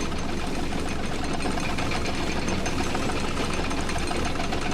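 The Bucket Destroyer machine in The Stanley Parable runs with a steady, loud mechanical whirring and rattling hum, like an idling engine, continuous and alone with no voices.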